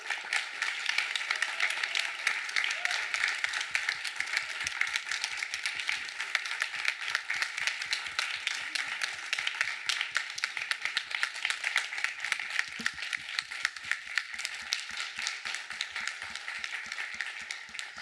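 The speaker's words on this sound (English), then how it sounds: "come on up so we could give a huge round of applause to our guests" Sustained audience applause from a crowd at a Tikkun Leil Shavuot gathering, steady dense clapping filling the room without break, fairly loud and even throughout.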